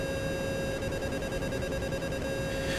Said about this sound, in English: whenever I enter the choppy noise tone, the wing stalls